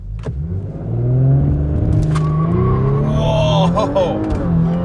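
Audi S4 B9 with a Stage 1 tune on 18-inch wheels launches hard, its engine climbing loud and close through a strained rev with tire chirps from heavy wheelspin, then a gear change, as a person talks over it.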